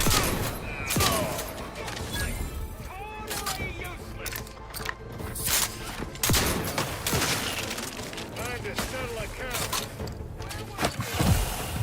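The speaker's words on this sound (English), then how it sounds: "Who's shooting me?" Gunfire in The Outer Worlds 2 crackles in scattered bursts and sharp single shots amid combat noise, with a person talking over much of it.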